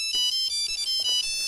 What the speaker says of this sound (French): C'est votre téléphone, Dutch, il sonne.